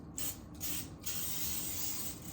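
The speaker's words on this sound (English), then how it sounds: "I'm just going to like slightly spray this pan" Cooking spray hisses onto a baking pan in short bursts, a close, soft continuous spray with brief pauses and no talking.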